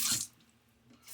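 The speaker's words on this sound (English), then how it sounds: "Splash of water." A quick splash of water during a wet shave with a Timeless 68 open-comb safety razor and Gillette Nacet blade, heard as a brief close wash of water at the start that fades into quiet.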